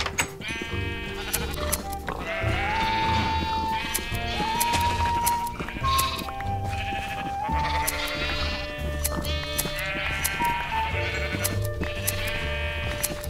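Repeated sheep bleats from the video game Minecraft sound over continuous background game music, several overlapping calls spread steadily through the whole stretch at moderate loudness.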